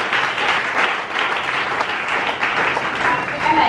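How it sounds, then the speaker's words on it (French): A church congregation applauds vigorously during a prophetic worship service, with dense, continuous clapping from a large crowd and voices faintly mixed into the sound. "Acclame très fort, acclame très fort."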